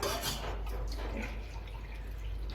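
Hot water pours into a pot of basanti pulao, a steady low splashing wash with faint dripping, continuous and close.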